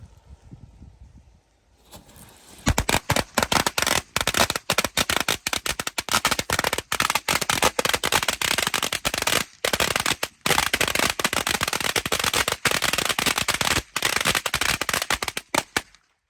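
After a quiet start, a long rapid string of firecrackers pops and crackles loudly and continuously, with brief gaps between bursts.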